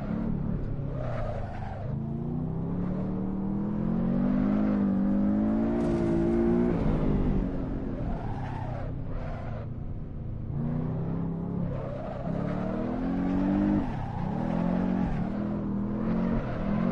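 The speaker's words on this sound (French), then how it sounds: "C'est très proche du bruit du 911, normalement, ces voitures-là." A sports car engine in Assetto Corsa, close in sound to a Porsche 911, revs and roars continuously while drifting, its pitch rising and falling through repeated accelerations, loud and close.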